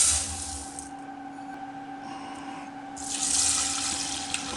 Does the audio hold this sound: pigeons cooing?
no